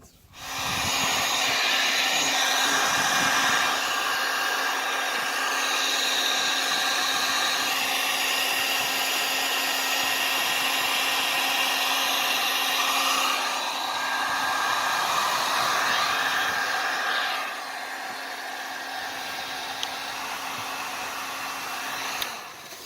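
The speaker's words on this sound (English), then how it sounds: "we got heat gun." A heat gun blows a steady, loud hiss with a constant whine, running continuously and close by during a cold-weather hot tub leak repair, with a slight dip in level near the end.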